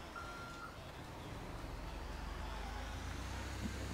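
A truck rumbles along in Grand Theft Auto V with a low, steady engine drone that holds throughout. A brief high beep sounds near the start.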